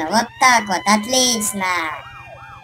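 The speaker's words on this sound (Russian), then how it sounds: "Обязательно включаем сирены." A wailing fire truck siren from a Russian-language children's firefighting video game rises and falls at the end, following someone speaking over a rapid mechanical pulsing rhythm.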